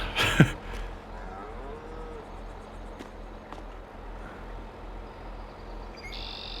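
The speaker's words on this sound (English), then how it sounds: "What's going on, you big beautiful cows?" A cow lows once, loud and close, at the very start, then a quiet farm scene follows with faint bird chirps and soft ambient noise.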